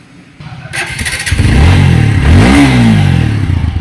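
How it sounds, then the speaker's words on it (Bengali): A motorcycle with 4-valve engine and ABS cranks and fires up, then revs loudly with rising and falling pitch, close to the listener with no talking. "এখন বাইকটা আমি স্টার্ট করব"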